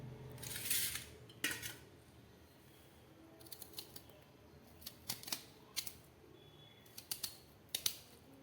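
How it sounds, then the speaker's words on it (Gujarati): A kitchen knife cuts spiny gourd (kantola) lengthwise, giving a series of sharp, crisp clicks and snaps against a board in irregular bursts, close and fairly quiet with silence between the cuts. "તો કંટોલાને આપણે આ રીતે લંબાઈમાં કટ કરીશું."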